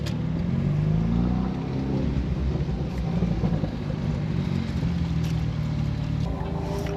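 Chevrolet Cobalt SS on a track warm-up lap, a steady close engine drone with rising and falling pitch and wind rush running throughout.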